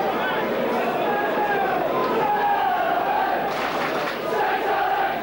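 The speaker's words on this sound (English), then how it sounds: "the crowd now coming to life" A rugby league stadium crowd stirs into a swelling roar of shouts and cheers during a St Helens versus Auckland match, with a commentator's voice running over the noise.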